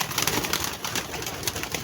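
A pigeon coos close by in a soft, low, continuous murmur against a dense background hiss.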